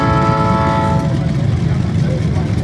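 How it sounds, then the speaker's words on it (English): A freight train's horn blares for about a second over heavy, close rumbling rail noise, which continues after the horn cuts off. "Doesn't freight train have a horn on it too?"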